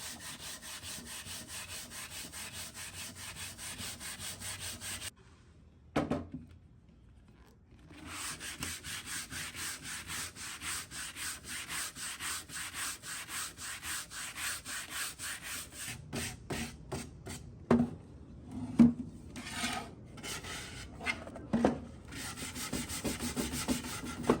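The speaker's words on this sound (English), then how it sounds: "I'm going back down to 80 with my hand sanding sponge" Steady back-and-forth scrubbing of an 80-grit sanding sponge on a mid-century modern wooden dresser, close and fairly quiet, pausing briefly, then resuming in faster strokes.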